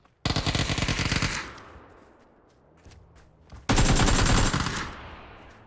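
Two loud, rapid bursts of video game gunfire, the first stopping after about a second, the second after a quiet gap, each trailing off in echo.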